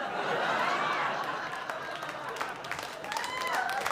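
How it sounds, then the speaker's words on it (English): Scattered clapping and murmuring from a comedy club crowd at Gotham Comedy, fairly faint and brief, with a few louder individual claps and a voice coming through near the end. "Yeah, clap now"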